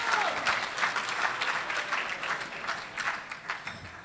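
Applause from an audience at an awards ceremony, steady and moderately distant clapping that holds for several seconds before thinning slightly toward the end.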